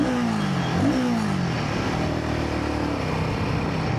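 A Royal Enfield Guerrilla 450 motorcycle engine revs steadily on an open highway in third gear, its tone sweeping up and then easing off as it settles into a sustained drone, with no talking.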